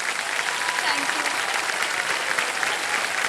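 Studio audience applause on a televised quiz show, a steady dense wash of clapping throughout, continuous and fairly loud.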